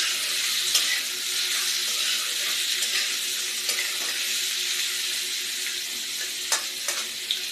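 Potato and kakrol (spiny gourd) fry with black cumin seed in a pan, giving a steady, bright sizzle throughout, broken by a few sharp clicks and scrapes of stirring.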